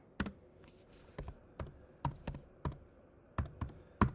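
Separate keystrokes on a computer keyboard, about nine distinct taps spaced irregularly across a few seconds, each one crisp and close, with quiet gaps between them and no voices.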